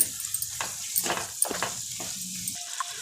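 Chicken curry with grated coconut being stirred in a pan, a soft sizzle under repeated short scraping strokes of a spoon, close and moderately quiet, without talk.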